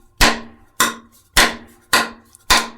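Five sharp hammer strikes land at a steady pace, close and loud, as wall trim is tapped into place during interior finishing of an old country house; each blow rings briefly with a woody knock before fading, with no talk.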